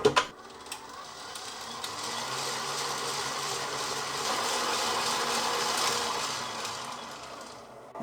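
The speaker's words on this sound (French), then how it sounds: "Pour monter les 200 grammes de crème en crème chantilly" An electric mixer whips 200 grams of cream into chantilly with a steady, whirring mechanical buzz. It stays at a moderate level throughout, with a short clatter at the start and no speech.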